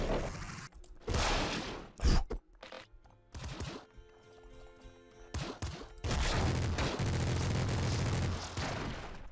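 Minigun fire in the video game Nuclear Throne, loud and dense in bursts at the start and again as a sustained roar in the last few seconds, with chaotic game effects in between.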